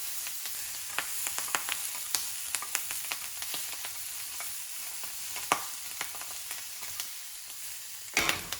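A ham and tomato omelette mixture fries in a pan, a steady close sizzle with scattered crackles and occasional scraping bursts as it is stirred, no voices.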